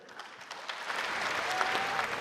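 Conference delegates applaud, a crowd's clapping that rises from a scattered start to a full, steady roar over a couple of seconds.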